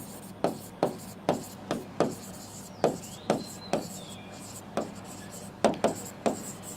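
A domain name being written by hand on a classroom board, a series of short tapping and scraping strokes at an uneven rhythm, close and fairly quiet, with no voices.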